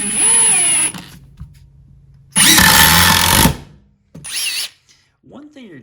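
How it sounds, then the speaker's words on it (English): A Metabo HPT (Hikoki) 36V MultiVolt triple hammer impact driver drives drywall screws in three loud whirring bursts of roughly a second each, with quiet gaps between and a short trailing sound at the end. "I got just some regular drywall screws here"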